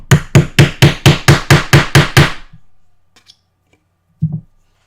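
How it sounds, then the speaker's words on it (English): Eight or nine sharp, evenly spaced hammer blows from a small tool setting eyelets ring out loud and close in a steady rhythm, then stop, followed by faint taps and one last thud. "I'm gonna hammer"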